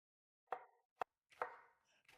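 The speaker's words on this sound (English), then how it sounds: "I'm going to cut my garnish jalapeno." A knife chops a jalapeno for garnish on a board with four quiet, separate cuts spaced about half a second apart.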